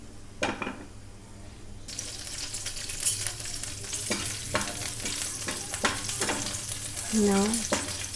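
Green chilies hit hot olive oil in a pan and burst into loud spitting sizzle, with several sharp crackling pops, utensil scrapes, and a short clank near the end.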